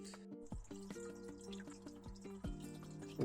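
Water from an Aquael Versamax aquarium filter trickles and drips steadily, close by, with a faint electrical hum underneath and small splashes throughout.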